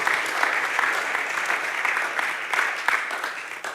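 Steady applause from a church congregation fills the space, a dense clapping crowd sustained throughout with a few louder individual claps.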